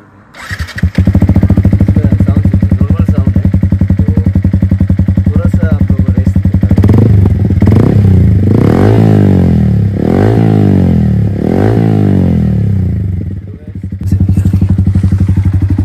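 A Yamaha R15 motorcycle with a very loud aftermarket exhaust idles with a rough, throbbing note, then revs in several sharp bursts before settling back to idle, close and dominant, with speech under it.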